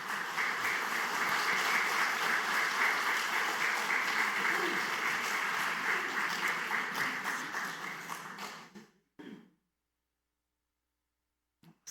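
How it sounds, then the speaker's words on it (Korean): A church congregation at Sunday worship breaks into sustained applause to welcome and bless a couple, a dense, even patter of many hands that fades out and leaves near silence. "우리 환영하고 축복하는 박수 한번 하도록 하겠습니다."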